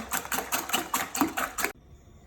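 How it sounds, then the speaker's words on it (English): Eggs for a leftover frittata being beaten hard with a whisk in a bowl, a quick run of regular, rapid clicking strokes close up that stops abruptly near the end. "now I'm gonna give it a stronger whisk and just really incorporate nice air in there"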